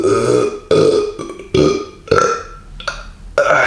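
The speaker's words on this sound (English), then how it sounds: "I'm gonna burp." A long, loud, close burp after drinking Hanoi beer, rolling through several deep voiced pulses over a few seconds with no talk.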